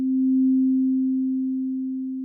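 A soft synthesizer pad in Ableton Live 12, with a slow attack and longer release, sustains a single pure, steady low tone that swells gently and then fades slightly, heard alone.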